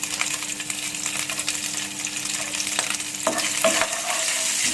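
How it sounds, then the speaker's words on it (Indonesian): Dried shrimp (ebi) and chili fry in a hot pan with a continuous crackling sizzle, broken by occasional clinks and scrapes of stirring near the end. "Saya goreng sedikit ebinya"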